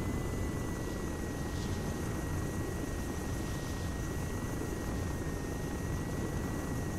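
Littlebird helicopter in ArmA 3 coming in to land, a steady rotor and turbine drone holding at constant loudness throughout with a thin high whine above it, no voices.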